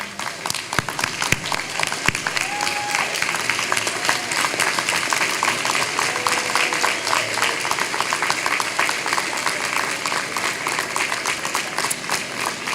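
Sustained audience applause fills a college commencement ceremony hall, dense and steady for the whole stretch, with a few scattered louder claps near the start.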